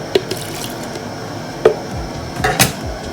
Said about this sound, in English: Let me pour some water here to rinse the bowl and then pour it into my blender.